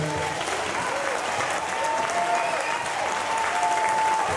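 Crowd at a kickboxing gym event applauding young fighters, steady dense clapping throughout, fairly close and full, with faint voices mixed in.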